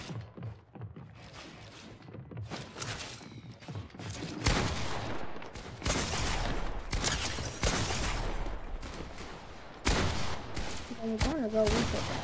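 Pump shotgun fire in Fortnite during edit pump wars, repeated loud blasts in quick bursts mixed with other gunfire and game effects, with a voice talking over parts of it.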